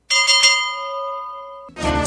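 A chow bell rings out once in a radio ad, a bright metallic strike with many tones that hangs for over a second. The ring cuts off abruptly into a burst of noisy, crackling sound.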